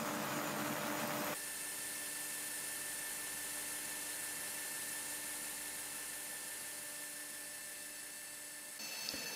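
A machine saw cuts through solid wood for a kitchen cabinet front, a steady high whining buzz that runs evenly for several seconds after a brief louder start, then cuts off near the end.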